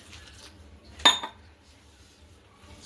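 A spoon or utensil clinks once, sharp and brief, against a bowl while the ingredients for methi thepla dough are stirred together, with quiet background before and after.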